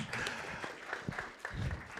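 Scattered applause from a small audience after a conference talk on programming, fairly faint and thin, with individual claps audible and a few voices underneath.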